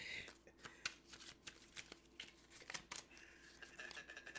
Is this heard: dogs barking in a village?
no